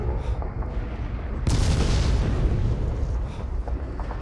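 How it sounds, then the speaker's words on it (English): Explosions in the video game Call of Cthulhu: Dark Corners of the Earth: a sudden loud blast erupts partway through and decays into a heavy rumbling roar, following quieter muffled thuds beforehand. "That is a lot of explosions."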